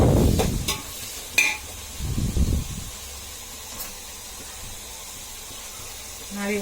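Vegetable pulao ingredients fry in a pan with a little ghee, giving a soft, steady sizzle. Louder scraping bursts of stirring come near the start and again around the middle.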